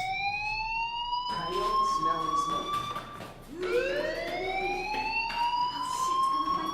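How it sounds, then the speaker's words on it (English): School fire alarm in the video game Life Is Strange: a loud wailing siren sweeping upward in long repeated rises, with voices talking beneath it. "Hey, do you hear that fire alarm? That means you should be outside."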